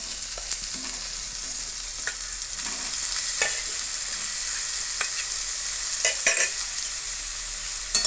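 Soybean chunks fry in spiced oil with a steady close hiss, broken by scraping knocks as a spoon stirs the pan every second or so, the clatter growing busier toward the end.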